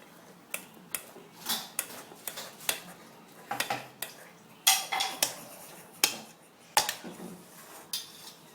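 Boiled yam being mashed on a plate with a wooden spatula, a series of sharp irregular taps and knocks spaced about half a second apart, close and moderately loud with no voices.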